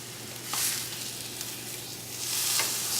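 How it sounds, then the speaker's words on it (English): Spiced pork loin searing in a hot pan gives a steady close sizzle and frying crackle, with a few louder hissing swells as the meat is turned and pressed; no voices. "what you're really looking for here is to get a nice sear on it, on all sides"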